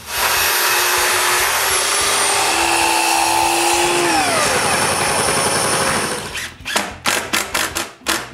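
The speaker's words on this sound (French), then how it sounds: "La première chose à faire est de couper une planche pour commencer sur le bord d'un poteau." A loud, steady power-tool whine for several seconds as a saw cuts a wooden wall board for a workshop build, its pitch sliding downward, then a burst of short, rhythmic pulses as it bogs and stops.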